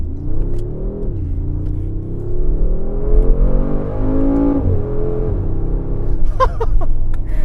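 A 2023 Mercedes G63 AMG 4x4 Squared accelerating hard, its loud V8 growl rising steadily in pitch from inside the cabin, with a brief shift dip before pulling again.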